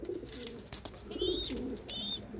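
Soft cooing from a young pigeon with bent legs being treated nearby, a few low warbling coos alongside faint rustling and taps, with no talking.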